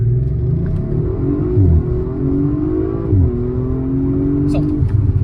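An Audi RS5 accelerates from 0 to 100 km/h on a city road, a loud, close engine rumble rising through gear shifts beneath an excited man's speech.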